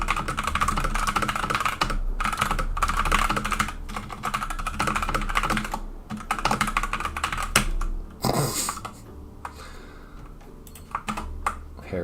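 Rapid clattering keystrokes on a PC keyboard during speed practice, loud and close in fast uneven bursts with brief pauses, no voices.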